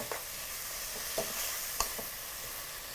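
A goat meat wet fry sizzles in a pan with a constant soft hiss, while a few faint, sharp clicks of stirring sound against the pot.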